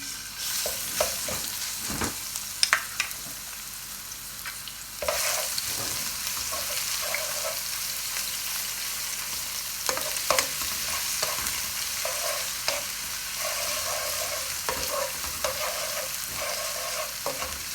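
Garlic and ginger frying in hot oil for chicken karahi make a steady, close sizzle, with repeated scrapes and knocks of a spoon stirring in the pan throughout.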